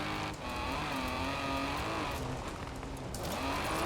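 A car in Forza Horizon 4 being forced sideways into a drift: a continuous engine drone with a wavering pitch and a faint hiss of tire scrub, sustained and up close, with no talk.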